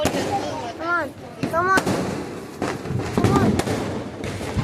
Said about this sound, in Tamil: ஓகே வாங்க பார்க்கலாம் யார் வெடிக்க போறாரு.